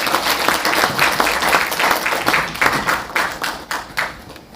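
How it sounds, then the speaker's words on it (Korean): Audience applause at a symposium: a dense, steady wash of many hands clapping, loud and sustained throughout, gradually thinning toward the end. "다시 한번 큰 박수 부탁 올리겠습니다"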